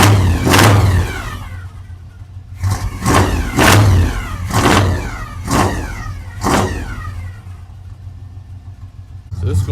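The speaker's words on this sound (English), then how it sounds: "That transmission always does that when it's really cold outside." A 1973 Oldsmobile engine running with a noisy cold transmission, a steady mid-pitched engine drone overlaid by repeated loud rhythmic whooshing surges, close and loud.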